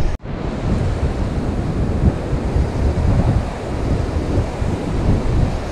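Surf breaking and strong wind buffeting the microphone on a beach during cold rain, a steady loud roar of waves and gusts with no talking.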